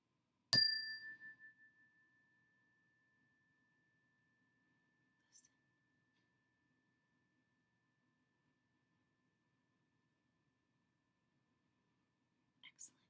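A single meditation chime rings once with a bright, clear strike and a long ringing tail that fades over several seconds into near silence, followed later by faint rustling and a soft breathy sound.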